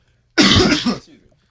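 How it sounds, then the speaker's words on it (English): A single short, harsh throat clearing, close and loud, lasting under a second before quiet returns. "hold on, clear my throat"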